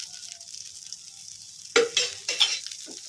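Ragi dosa on a hot pan with oil drizzled over it: a faint steady sizzle at first, then sharper hissing bursts as the oil hits, with several loud crackling surges near the end and no voices.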